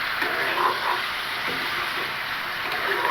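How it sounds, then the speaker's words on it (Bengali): Hog plum pickle simmering with panch phoron in a pan, a steady moderate hiss and sizzle with a few soft stirring scrapes, close up and without voices. "পাঁচফোড়ন দিয়ে আর 2 মিনিট রান্না করে নিচ্ছি"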